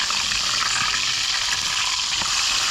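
Food frying in hot oil, a steady close crackling sizzle with no talking.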